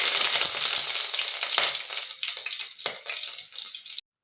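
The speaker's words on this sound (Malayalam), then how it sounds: "ഞാൻ ചട്ടിയിലേക്ക് ആദ്യം കുറച്ച് എണ്ണ ഒഴിച്ചു. പിന്നെ കടുകും ശകലം ഉലുവയും കൂടെ ഒന്ന് പൊട്ടിച്ച്" Mustard seeds and a little fenugreek crackle and splutter in hot oil in a pan, a loud, dense sizzle up close that thins into scattered pops before stopping abruptly.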